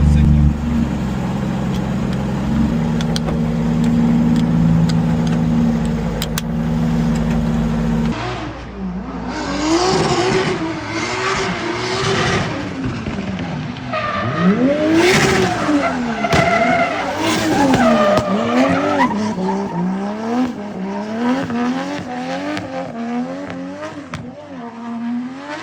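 A Nissan S15 drift car with its differential fitted revs and screams through a drift, tires squealing and engine note rising and falling, loud and close after an opening stretch of idling rumble.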